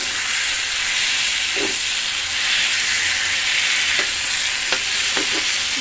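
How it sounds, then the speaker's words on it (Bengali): A fish head frying in a pan, as for fish head with cabbage: a loud, steady, close sizzling hiss throughout, broken by a few soft scrapes of stirring. "ভালো করে কষিয়ে নিই মাছের মাথা দিয়ে"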